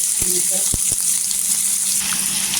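Two to three chopped onions frying in hot oil in a pan give a loud, continuous close sizzle, with a few sharp knocks from stirring early on and no voices.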